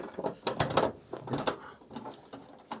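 Bolts being ratcheted tight on a C10 truck rocker panel, a quick run of close clicking, ratchet-like metal taps in short uneven bursts.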